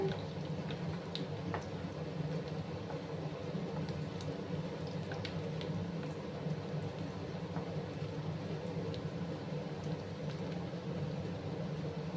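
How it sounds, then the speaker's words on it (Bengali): Onions and garlic frying together in a pan, giving a steady, even sizzle that stays soft and continuous throughout with no talk over it. "ভেজে নিচ্ছি আমি। তাতে করে রসুনের কাঁচা গন্ধটাও চলে যাবে একসাথে ভাজতে করে।"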